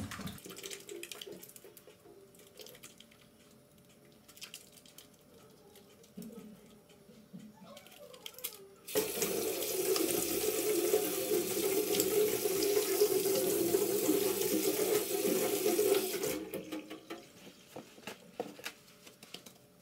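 Tap water runs steadily into a sink for about seven seconds of hand washing, loud and close, framed by quieter room sounds and faint handling before and after.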